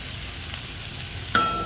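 Chopped onion fries in leftover fish-frying oil with a soft continuous sizzle, then a sharp metallic clink near the end, for a pomfret fish kalia.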